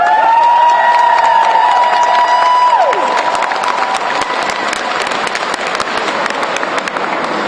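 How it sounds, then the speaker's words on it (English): Audience applause at a home care and hospice event, loud sustained clapping filling the room for several seconds with a few cheers, while a steady electronic tone runs underneath before sliding away. "Let's give them a round of applause as well."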